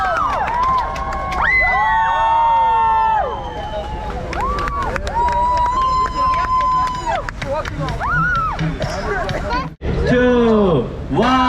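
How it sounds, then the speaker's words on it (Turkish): A crowd of passengers cheers aboard a pirate boat tour at sunset off Alanya, with loud, continuous whoops, rising shouts and whistles, including children's voices, mixed with chatter throughout. "Applause, alkışlar."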